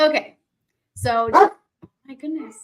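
Pet dogs bark at home, sharp yips breaking out between stretches of someone talking; the barks sound close and fairly loud, mixed with her speech.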